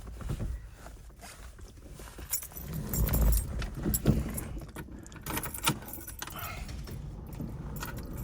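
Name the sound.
car keys jangling taken from a pocket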